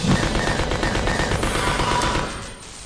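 Rapid automatic gunfire rattles in a dense, loud burst in Resident Evil Code Veronica, then thins and fades over the last half second, with no talk.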